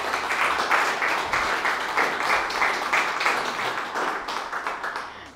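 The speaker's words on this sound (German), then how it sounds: "Hier vorne mal einen herzlichen Applaus" Audience at the Achtzig-Galerie art gallery in Berlin gives a warm round of applause, a dense, steady wash of many hands clapping that holds for the whole stretch before tapering slightly at the end.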